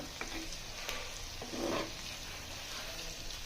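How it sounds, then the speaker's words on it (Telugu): Cashews fry in a pan of oil over a low flame with a soft, steady sizzle, broken by a few brief stirring scrapes. "సిమ్లో పెట్టి ఎగింటున్నానండి"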